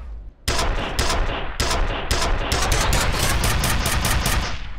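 Rapid automatic gunfire in the F.E.A.R. video game, loud and close, sustained bursts of sharp cracks with brief gaps, then continuous repeated shots.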